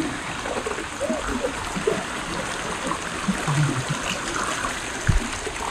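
A stream swollen by continuous rain floods the water taps at Bulbule, Surkhet, with a steady rushing and gurgling flow, a muffled voice briefly underneath and a sharp knock near the end.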